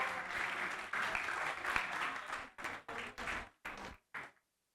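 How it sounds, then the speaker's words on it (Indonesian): Applause from a crowd at the Comfest 2026 event: full, dense clapping that breaks into shorter separate bursts and dies away, then silence. "Kali lagi tepuk tangan yang meriah semuanya."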